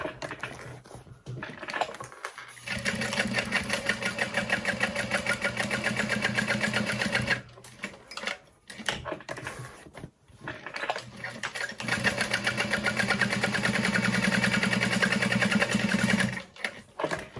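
A sewing machine stitches reinforcement around a backpack pocket in rapid, steady runs of mechanical whirring, pausing briefly between two long bursts, close and clear with no talk.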